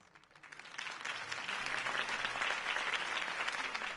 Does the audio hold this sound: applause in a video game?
yes